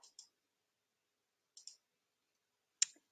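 A computer mouse clicking through a software interface, a few sharp, quiet clicks in pairs spaced apart by silence.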